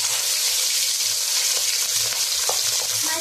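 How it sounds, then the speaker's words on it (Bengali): Pabda fish frying in hot oil in a home kitchen, a loud, continuous bright sizzle with occasional crackles and stirring clinks, close and without talk. "গরম হয়ে গেছে, এখন আমি মাছ ছাড়বো।"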